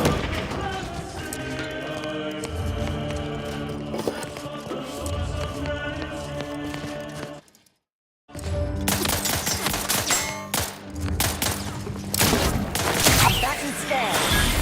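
Sustained gunfire from a sci-fi shooter battle in The Outer Worlds 2 rattles continuously over game music and effects, cut by a brief silent gap before the firing and booms resume, louder and denser.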